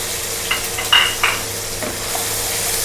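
Onion, tomato and ginger-garlic paste hit hot oil in a frying pan with dry red chilies and whole garam masala, a few quick bursts of sizzle and spoon scrapes over a steady low hiss, close and without speech.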